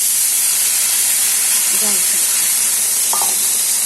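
Chopped banana stem, washed in salt and turmeric, hits a hot pan of fried potatoes and sizzles in a loud, steady hiss, with faint brief sounds partway through.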